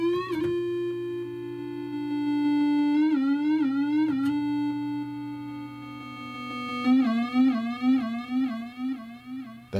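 A ZX Spectrum 'Evolution' sound effect plays as a wobbly synth tone, a buzzy harmonic-rich note holding steady, then bending in repeated stepped wobbles, alone and fairly loud with a few sharp clicks between phrases.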